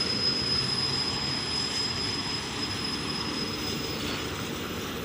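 A slow freight train rumbles steadily by at night, wheels giving a continuous thin squeal above a broad, even roar.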